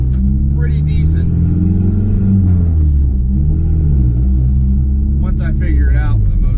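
A 25-year-old project truck's engine drones deep and steady from inside the cab while driving, rising and falling slightly with throttle, as someone speaks briefly at the beginning and again near the end.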